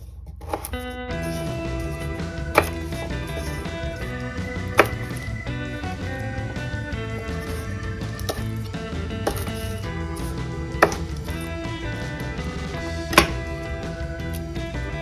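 A knife chops the end pieces off garlic cloves on a cutting board in a few sharp, separate knocks spaced a couple of seconds apart, close and clear over steady background noise.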